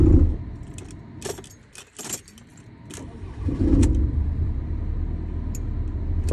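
A Ford Transit van with a hot-starting fault has its key turned, keys jangling and the ignition clicking, followed by a steady, fairly loud engine rumble that continues to the end, with no talk.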